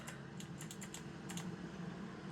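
Rapid clicking of computer keyboard keys in short irregular bursts while a truck-driving video game is played on keyboard instead of a wheel, steady game engine hum underneath.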